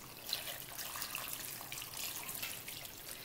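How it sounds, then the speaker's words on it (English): Broth pours into a slow cooker over potatoes for a pot roast, a steady liquid splashing and trickling that runs without a break for a few seconds at moderate volume, with no talk. "And then we'll put that broth in."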